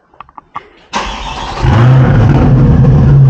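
A C8 Corvette with a custom center exit exhaust starts while warm: a few faint clicks, then the starter catches and the engine barks loudly to life before settling into a steady, deep, rumbling idle, close and alone.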